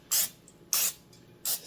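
Three short, even bursts of hissing cooking spray, spaced about half a second apart, lightly coat cut cabbage pieces before they go in to crisp.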